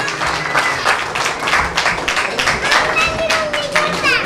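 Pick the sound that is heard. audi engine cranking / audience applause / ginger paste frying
audience applause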